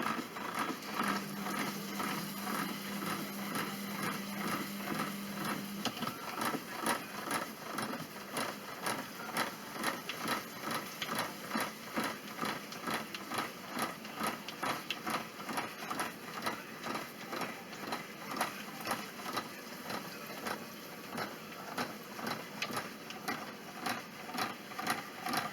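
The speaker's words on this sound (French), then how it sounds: "On va prendre la pâte, notre machine à pâte, et on va la passer dedans." A hand-cranked pasta machine rolling homemade spaetzle dough, a steady rhythmic mechanical clicking and whirring that continues evenly throughout at moderate volume with no talking.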